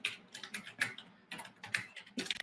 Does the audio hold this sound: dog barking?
no